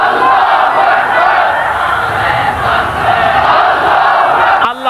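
A large crowd at a waz mahfil religious gathering in Assam roars a takbir slogan in unison, a loud sustained mass of voices filling the whole stretch before breaking off abruptly at the end.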